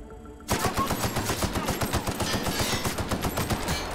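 Rapid automatic gunfire in The Outer Worlds starts abruptly after a moment of quiet and then rattles on steadily and loud as a dense, continuous burst of shots.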